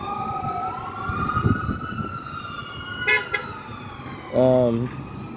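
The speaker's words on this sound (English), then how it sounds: "The ambulance can't even get through there because of such gridlock down there." An ambulance siren wails with a rising and falling tone over gridlocked traffic noise in Boston, followed by a short honk of a horn.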